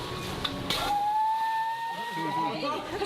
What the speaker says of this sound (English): He can also whistle.